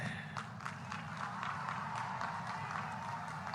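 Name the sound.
crowd applauding loudly to honour the Lakhpati Didis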